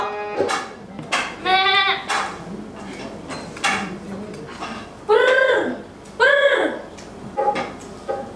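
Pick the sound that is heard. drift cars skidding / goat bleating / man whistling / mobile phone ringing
goat bleating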